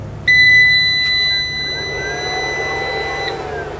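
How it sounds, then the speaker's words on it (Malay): An all-in-one solar hybrid inverter powers on with a loud, steady high-pitched electronic beep that holds for about three seconds, accompanied by a low hum, with no speech. "Jadi sekarang kita akan upkan breaker dan kita onkan inverter."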